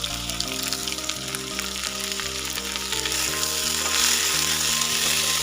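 Chopped tomatoes and salt sauté in a pan for a rohu fish curry, giving a steady, close sizzle that runs the whole way under loud background music.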